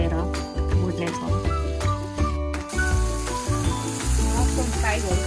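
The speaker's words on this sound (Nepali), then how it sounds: "हल्का तेल राख्ने छौँ। र हामीले म्यारिनेट गरेको मसरुम यसमा हालेर भुट्ने छौँ।" Marinated mushrooms fry in lightly oiled pan over medium flame, a loud crackling sizzle with clinks of stirring utensils throughout.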